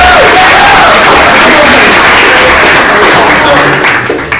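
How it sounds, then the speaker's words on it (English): Loud, dense applause from a conference audience greeting a speaker at a talk, sustained and close for several seconds, with crowd noise and a few raised voices mixed in. "You should clap really loud"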